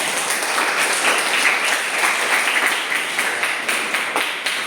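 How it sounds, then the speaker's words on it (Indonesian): Steady applause from a classroom group during a teaching session, with many hands clapping close by in a continuous, even patter. "silakan berikan aplaus kepada semuanya"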